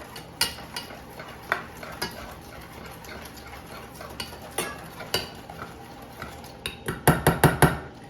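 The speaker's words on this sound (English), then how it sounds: "I'm just gonna keep mixing this up. And that's gonna be my glazing sauce." Bacon meatloaf glazing sauce being stirred in a bowl, giving irregular utensil clicks and scrapes against the dish that speed up into a quick run of sharper taps near the end, with no talking.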